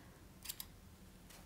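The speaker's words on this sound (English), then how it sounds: "take your scissors and just snip really nice and carefully" Scissors snip through yarn in a few quiet, crisp cuts: two quick snips close together, then another pair a moment later, close by and with no talking.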